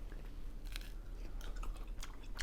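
A spicy Indian-style quesadilla is bitten and chewed up close, with crisp crunches and wet mastication repeating in an uneven rhythm, no talking.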